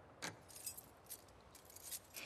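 Keys jangle in The Last of Us Part II, a few quick metallic clinks and rattles in short bursts, close and faint, with no talk over them.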